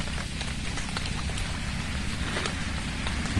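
Steady, dense rain pours outdoors during a rice harvest, a loud continuous hiss with scattered drop patters and no voices.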